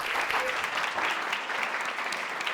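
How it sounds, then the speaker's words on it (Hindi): Steady applause from many hands fills the whole stretch, a dense even clatter with no pauses and no voices on top. "फिजिक्स के अंदर आप लोग ताली बजा सकते हैं,"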